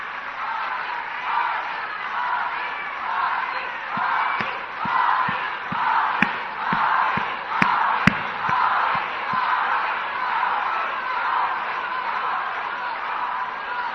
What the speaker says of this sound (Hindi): एक बार जोरदार तालियां हम अपनी इस संगठन के लिए, हमारे नेतृत्व कर रहे आदरणीय मोदी जी के लिए।